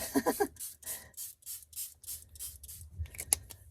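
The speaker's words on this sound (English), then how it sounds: "I think I'm just going to spray plain water" A spray bottle hisses plain water onto a scratched foam board in a quick run of about eight short, even squirts, close by. Faint rubbing and handling sounds follow.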